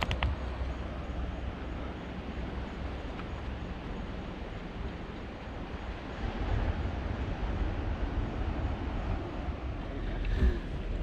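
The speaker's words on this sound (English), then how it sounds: "You can hear the waves." Ocean waves near the archery range at Camp Erdman on Oahu's Kaena shore make a steady low roar with rumbling wind, surging slightly louder toward the end, with no talk.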